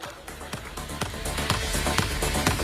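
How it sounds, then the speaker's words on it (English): Audience applause at the Flipkart Glam Up Fest, a beauty brand showcase event, with sharp claps forming a steady, loud stream that builds and holds for several seconds. "Let's give them a round of applause again, please."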